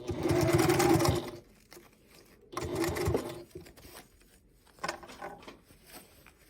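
A sewing machine stitches the boxed corner seam of a fabric bag in two loud, steady whirring runs, then gives a brief quieter burst near the end. No one speaks.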